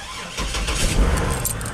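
A truck that has sat unused for a long time cranks and roars into life, its engine starting with a sudden loud rumble and continuing to run close by, with a faint metallic jingle like keys.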